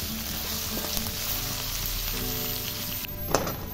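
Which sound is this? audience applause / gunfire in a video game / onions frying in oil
onions frying in oil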